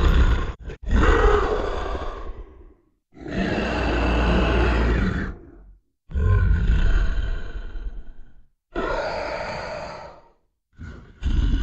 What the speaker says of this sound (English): Roaring Dragon.